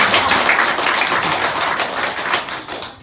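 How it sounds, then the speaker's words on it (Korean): A church congregation at a Sunday service breaks into loud, dense applause, many hands clapping at once in a continuous close wash of sharp slaps. "박수를 치려면 확실히 치고,"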